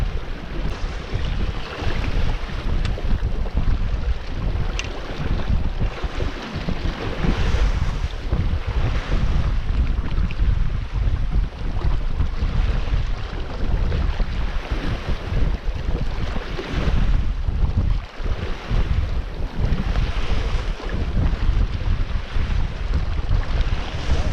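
A sailboat under way on Twofold Bay gives a constant roar of wind buffeting the microphone, mixed with rushing waves and water against the hull, loud and unbroken throughout.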